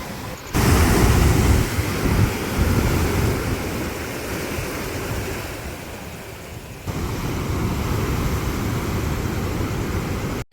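At Porbandar at night, sea waves roll onto the shore in a loud, continuous roar of surf, mixed with wind buffeting the microphone, and no voices are heard.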